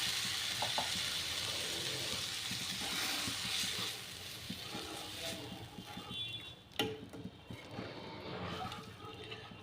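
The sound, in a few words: dal poured into a hot pan, sizzling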